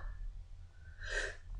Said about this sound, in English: Never sneeze like this doing a review.